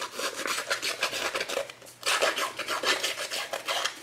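Rhythmic scraping and rasping, like a rough tool dragged repeatedly across paper, in quick strokes with a brief pause midway, close and fairly soft.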